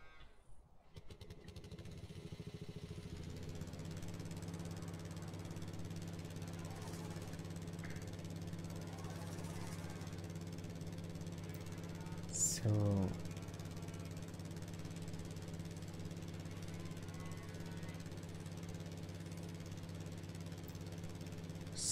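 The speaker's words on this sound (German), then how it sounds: "fahren wir mal kurz den Motor mehr zurück, weil der nervt da irgendwie" Tractor engine idling in Farming Simulator 19, a steady low droning hum held throughout, with one brief louder clank partway through.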